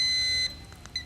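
A quiz-show buzzer on a live quiz competition program gives a single sustained electronic tone of about half a second, fairly faint, followed by a few soft blips, with no talk.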